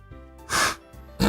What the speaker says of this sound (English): Just blow your nose in the microphone.